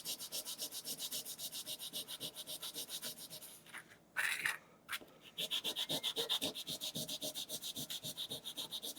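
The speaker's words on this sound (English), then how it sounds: "Now I want to polish this surface a little bit, and an abrasive pad works really well." An abrasive pad polishes the surface of a printed circuit board in rapid, regular back-and-forth rubbing strokes, close and crisp, broken briefly by a short pause with a scrape before the even rhythm resumes.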